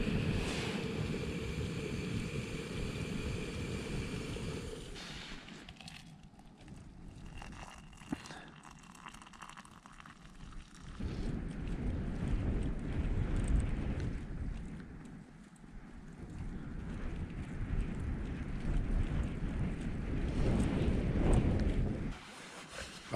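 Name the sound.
strong wind gusts buffeting a tent while winter camping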